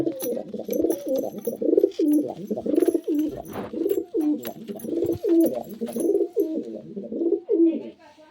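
Pigeons in a loft coo repeatedly and close by, a steady run of throaty, rolling calls that rise and fall in a regular rhythm, with faint chirps and light rustling between them.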